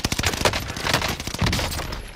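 Rapid bursts of automatic gunfire rattle loudly in Call of Duty Warzone Pacific, with dense overlapping shots and echoing reports filling the whole stretch.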